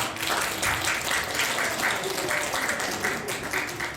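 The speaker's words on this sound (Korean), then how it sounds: "우리 근사님 힘내라고 우리 박수 한번 합시다." Applause from a church congregation during a Sunday morning worship service, steady clapping across the whole stretch at moderate level with a faint voice mixed in.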